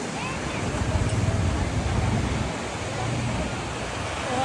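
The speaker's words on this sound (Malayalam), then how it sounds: "ഇത് ബീച്ചിൻ്റെ ഒരു ഭാഗം." Surf and wind at a beach make a steady, rushing wash of broadband noise with gentle swells in loudness, moderately near and without a distinct break.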